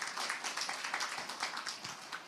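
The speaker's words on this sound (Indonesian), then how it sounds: "Tepuk tangan buat Tuhan." A church congregation claps along in a quick, steady rhythm, the sound faint and distant.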